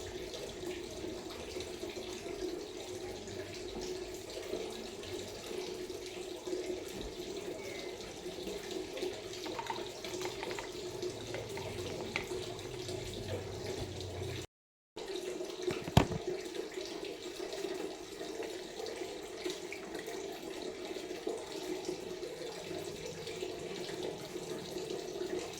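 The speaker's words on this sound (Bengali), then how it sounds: "আপাতত মুখটা ধুয়ে নিচ্ছি" Tap water runs steadily into a sink as someone washes their face, a continuous close splashing hiss with a brief break midway and a few louder splashes after it.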